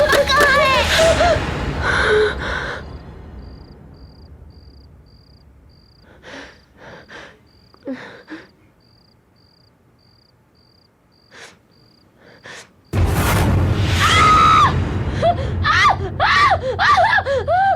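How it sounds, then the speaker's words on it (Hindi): In a Hindi horror drama, a woman lets out a sudden, loud scream of fright after a long quiet stretch of faint cricket chirps, soft gasps and breaths. "तुम ऐसी चीखी क्यों?"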